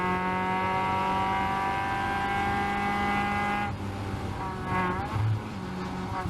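Caterham race cars roar past on a circuit, their engine notes holding a loud, steady whine that shifts partway through as another car's pitch sweeps in close.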